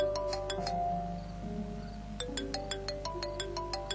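An electronic phone ringtone plays a bright repeating melody of quick chiming notes, moderately loud, over a low steady hum.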